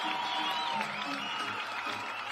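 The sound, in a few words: crowd cheering and applauding at a competition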